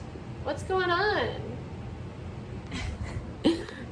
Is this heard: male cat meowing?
yes